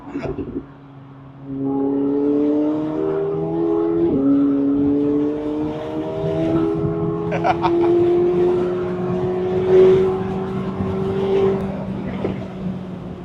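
A sports car engine drones and shifts pitch through gears, with brief popping crackles from the exhaust; people talk over it.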